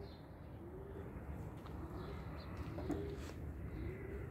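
Pigeons coo softly on a snowy morning in Darıca, faint, low repeated coos drifting over a quiet, muffled background with no one talking.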